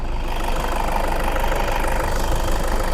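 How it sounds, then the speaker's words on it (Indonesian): A Toyota Innova 2KD diesel engine idling close by, a steady low rumble with a rapid, even knocking clatter running throughout. "Sini posisinya saya hidupkan mesinnya."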